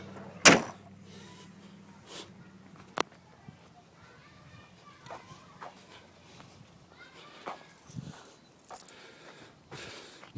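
Car door slamming shut on a 1968 Chrysler New Yorker, a single sharp solid thud near the start, followed by a second quieter knock and faint handling noises in a quiet setting.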